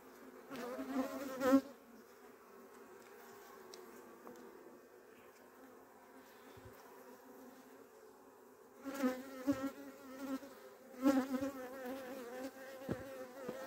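Steady insect buzzing of many honey bees at a hive hums throughout, swelling louder in brief bursts near the start and again toward the end, with no voices.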